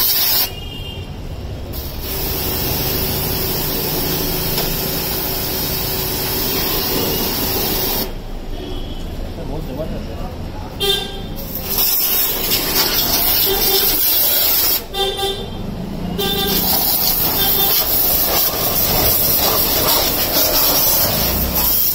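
STARQ B2 high-pressure car washer spraying: a loud, steady, hissing jet that runs for long stretches, broken by a couple of short pauses and shifts in tone as the nozzle moves.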